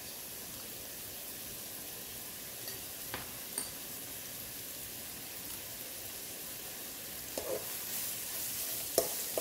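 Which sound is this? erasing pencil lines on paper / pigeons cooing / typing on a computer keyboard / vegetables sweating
vegetables sweating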